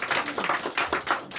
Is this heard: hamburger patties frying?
no